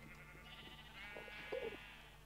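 Sheep in Minecraft bleat a few times, quiet and fairly close, over a faint steady background hum. One wavering bleat stands out partway through, and no one speaks.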